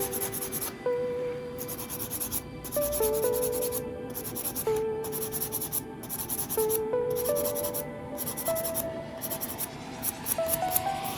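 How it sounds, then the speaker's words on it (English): A 150 grit file shapes an acrylic nail with steady, close back-and-forth rasping strokes in a continuous rhythm, moderately loud with no talking. "Just be mindful of your natural nail, because you're using a 150 grit file"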